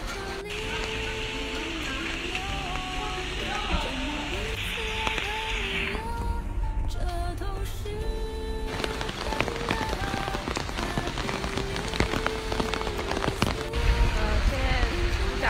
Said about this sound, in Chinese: 下大雨了